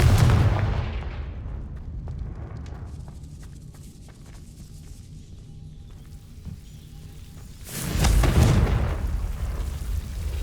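Two heavy rumbling blasts of the Confringo explosive spell in Hogwarts Legacy, a loud burst at the start and another around the eighth second, with a quieter crackling rumble fading between them and no talking.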